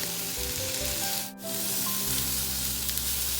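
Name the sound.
shrimp frying in oil in a pan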